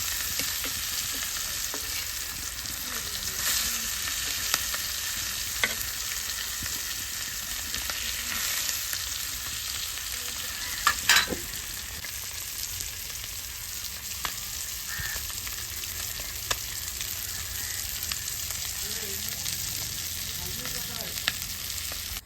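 Fresh sea fish fries in a pan over a wood-fired clay stove, giving a steady sizzle and crackle that runs unbroken throughout. A few sharper pops and spatters stand out near the middle, and no one speaks.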